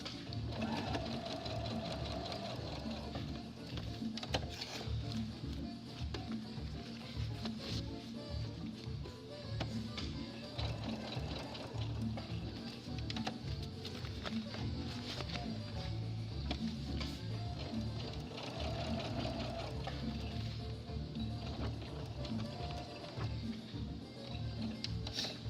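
A sewing machine stitches a crisscross onto a tote bag, running continuously with a fast mechanical chatter and needle ticking for the whole stretch, close and steady with no talk.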